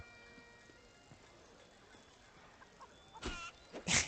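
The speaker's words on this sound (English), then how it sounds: "Ah, chickens!" Chickens clucking in the Bard's Tale video game, a few scattered soft clucks over quiet ambient background, ending with two brief louder bursts.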